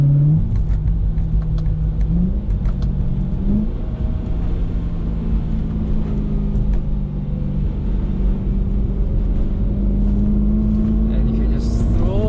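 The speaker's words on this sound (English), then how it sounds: "I love the way this engine revs." A BMW E93 M3 convertible's 4.0-litre V8 drones steadily from start to finish, with its pitch rising and falling as the revs change, and a voice speaks over it throughout.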